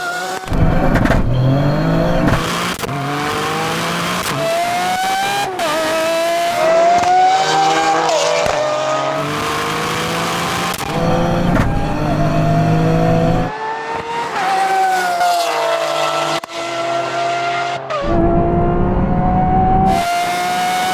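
A 600bhp GR Yaris and a Lamborghini Aventador SV drag race, engines roaring loudly through repeated rising gear pulls with brief drops between shifts, continuous and close throughout.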